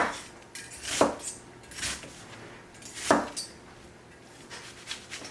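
A knife slicing through the middle of tomatoes for a homemade tomato sauce, with two sharp cuts striking the board about two seconds apart and softer handling noises between, close and clear with no talk.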